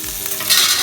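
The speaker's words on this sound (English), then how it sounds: "add curry leaves, ginger and green chilies into it" Curry leaves, ginger and green chilies sizzle loudly in hot oil along with cumin and spice powders, close up. The hiss swells partway through and is heard alone.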